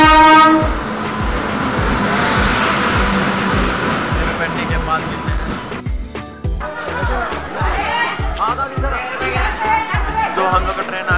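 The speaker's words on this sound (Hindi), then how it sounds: "तो हम लोग का ट्रेन आ चुका है" A train pulling into a railway station: loud rhythmic clatter of wheels over rail joints with high squealing and a horn-like tone, close by, with people talking over it.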